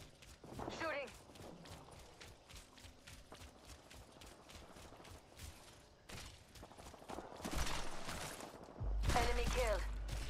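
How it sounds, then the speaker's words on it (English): Gunfire in the battle royale shooter Apex Legends, bursts of rapid shots and scattered single cracks mixed with footsteps and game effects, with louder bursts near the start and end, under occasional in-game voice callouts. "Shooting."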